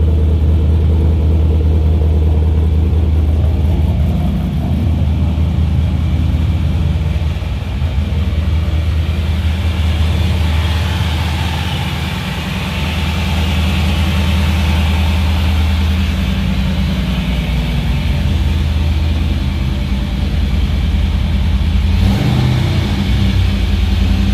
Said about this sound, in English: It will get a lot lumpier as it gets cold. It's idling at about 1100 right now.